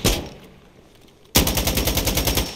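Rapid automatic gunfire from a weapon in the video game Insurgency Sandstorm rattles out in a loud, close burst after a short quieter stretch, with a single sharp shot at the very start.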